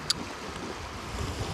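Ocean waves wash against the shore, a steady broadband rush with wind noise across the microphone, moderately loud and unbroken.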